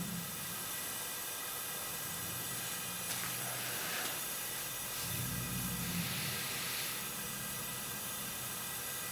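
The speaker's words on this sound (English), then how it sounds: "Yeah, that's a pretty nice boil there" Wort with hops at a full rolling boil in a brewing pot, a steady, dense hiss and bubbling roar that stays constant throughout, with slight low surges.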